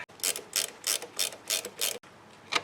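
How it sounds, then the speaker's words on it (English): A ratchet wrench cracks loose the end link nut on a 2009–2016 Audi B8 front suspension, giving a series of about seven quick, crisp clicking bursts at a steady rhythm, close and alone. "so you can put a ratchet on it and crack it loose"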